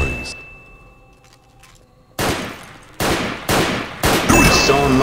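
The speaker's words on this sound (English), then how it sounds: "I hear lots of shooting going on" Video-game gunfire in Trouble in Terrorist Town: after a quiet stretch with faint noises, several loud bursts of shots crack in quick succession, close and sharp, with a metallic ding near the end.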